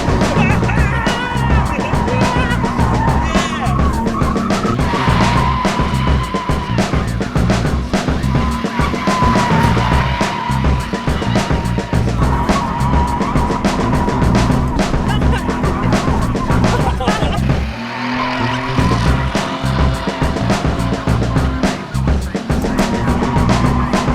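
A modified JDM drift car slides with long, continuous tire squeal and skidding over a roaring engine, loud and close throughout, with only a brief dip before the screech resumes.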